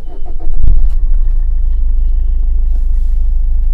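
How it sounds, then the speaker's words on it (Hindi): A 2020 Maruti Suzuki Swift Dzire engine cranks and catches, with a brief rev after starting, then settles into a loud, steady idle rumble recorded close by, with no voices. "गाड़ी स्टार्ट हो चुकी है और ऐसा कोई वाइब्रेशन हमें फील नहीं हो रहा है।"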